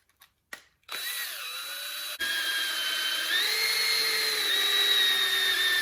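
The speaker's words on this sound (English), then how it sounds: "got my drill connected, and you'll go clockwise to check your oil pressure" A power drill spins the oil pump of a 5.9-liter 360 Dodge Magnum engine through a rod, starting after a few clicks and then running as a steady high whine close by, with no talking.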